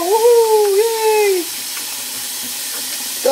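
Water pours steadily into a bath for a rubber duck toy, a continuous splashing hiss, with a loud, high sliding cry or whistle over it in the first second and a half.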